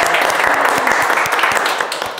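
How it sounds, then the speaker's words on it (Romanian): Applause for a girl at a surprise birthday party, a steady mass of hand claps close and loud for the whole stretch, with a faint voice in the background. "Haideți să aplaudăm o dată pentru sărbătorită."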